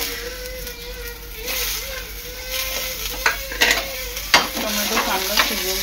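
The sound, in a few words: tomatoes frying and being stirred in a pan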